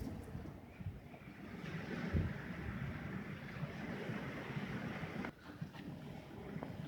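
Strong, cold wind gusting by the sea at Arkhipo-Osipovka roars steadily against the microphone, mixed with a broad wash of surf, with one brief lull near the end.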